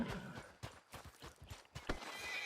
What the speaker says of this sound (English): Alright, this is my new horse, Kona.